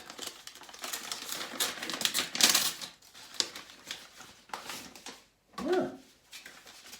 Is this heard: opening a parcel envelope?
yes